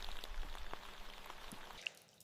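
Heavy rain falling in a forest, a dense patter of drops with occasional louder splashes, steady and fairly faint throughout.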